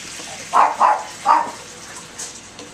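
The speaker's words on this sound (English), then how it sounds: "That's my dog Cappuccino." A dog gives three short, muffled barks close by in a kitchen, two quick ones then a third after a pause, with no talking.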